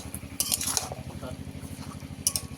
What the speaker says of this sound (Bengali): যতক্ষণে না মাছের জল শুকিয়ে যায় ততক্ষণ কিন্তু আমি এভাবে কষাতে থাকবো